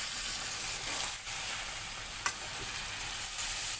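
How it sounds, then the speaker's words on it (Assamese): Chicken meat frying in a pan with a little water added, sizzling steadily and close, with occasional stirring scrapes and a brief clatter, no talking. "অকণমান পানী দি ভাজি পেলাই মাংসখিনি ভালদৰে সিজাই ল'ব লাগিব"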